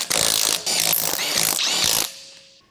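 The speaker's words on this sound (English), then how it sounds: "And now we have the 18mm socket and extension mounted on the impact to finish" An impact wrench with an 18mm socket and extension tightens lug nuts on a 2007-2018 Jeep Wrangler, giving loud, close hammering bursts in two runs that stop sharply, then a brief fading ring.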